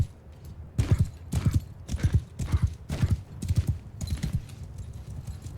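Horses gallop in a Mount & Blade II Bannerlord battle, hoofbeats drumming in steady repeated bursts of clip-clop, fairly close and loud with no talk over them.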